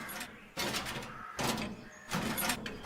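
A secret passage door slides open in a homemade Postman Pat scene, heard as three separate rumbling, scraping bursts of noise, each lasting under a second, with quieter gaps between them.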